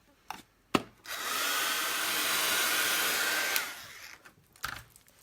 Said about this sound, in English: I have to dry it a bit with the heat gun to keep it safe.